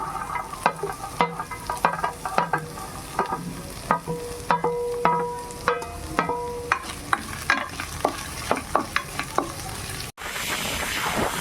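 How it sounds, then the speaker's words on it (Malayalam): Vegetables sautéing in a spoonful of hot oil for chicken vegetable soup, a soft steady sizzle broken by repeated sharp scrapes and clinks of a spoon stirring against the pan, with a brief louder burst at the end. "ഒരു സ്പൂൺ എണ്ണ ചൂടായതിലേക്ക് വെജിറ്റബിൾ പച്ചമണം മാറുന്നിടം വരെ വഴറ്റി കൊടുക്കാം"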